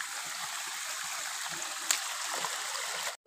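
Water flows from a small natural spring in the Konkan countryside. A steady, close rushing trickle runs evenly throughout and cuts off abruptly at the end.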